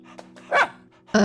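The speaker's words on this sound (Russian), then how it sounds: "Собака одобрительно тявкнула." A dog in the video game Tiny Bunny gives short approving yaps, two brief bursts heard close and clear over a faint steady background hum.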